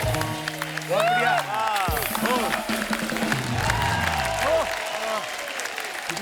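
Enthusiastic studio audience applause on a Hindi comedy talk show, loud dense clapping under a host's talk, with cheers and music stabs mixed in.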